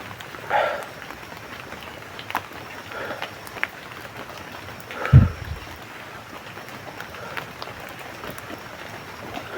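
Steady rain patters throughout at a moderate level, with a brief low thump near the middle and no talking.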